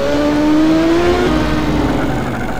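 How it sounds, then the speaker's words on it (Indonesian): A video game motorcycle engine revs steadily and loudly, its tone gliding upward, then holds a sustained drone with no talking. "Motor Upin memang hebat"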